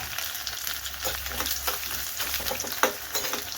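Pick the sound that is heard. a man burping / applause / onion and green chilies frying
onion and green chilies frying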